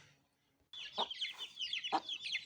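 Young chickens being tended alongside a young rooster, giving a few close chirps and clucks after a quiet start, with short repeated calls continuing over about two seconds.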